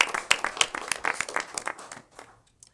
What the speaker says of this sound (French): Je pense que nous pouvons aussi ici applaudir chaleureusement Madame Thérèse Malo.